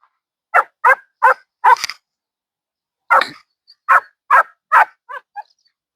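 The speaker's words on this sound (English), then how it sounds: "I care about the noise he's making, the barking" An 11-week-old puppy gives a series of short, high yappy barks, four in a quick run, a pause, then several more trailing into softer yips.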